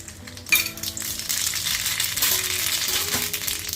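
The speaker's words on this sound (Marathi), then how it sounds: "तेल गरम झालंय एक छोटा चमचा मोहरी घालते" Mustard seeds sizzling and crackling in hot oil in a pan, a steady close frying hiss with scattered sharp pops and a metallic clink, no talk.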